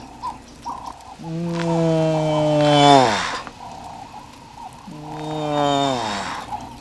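A man imitates a lion's roar beside a campfire in Botswana, making two long, loud, harmonic vocal roars that rise and then trail off, separated by a short pause.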